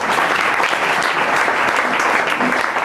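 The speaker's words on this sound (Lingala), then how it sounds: "Acclamez pour la gloire de Dieu." A congregation in church applauds steadily and loudly, a dense wash of clapping that continues for the whole stretch without a break.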